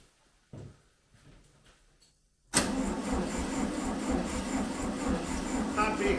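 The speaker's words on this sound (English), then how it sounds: "what we're going to do is see if it cranks over" A 1971 VW Beetle engine cranks and catches, jumping from near silence with faint clicks to a loud, steady rough running roar close by.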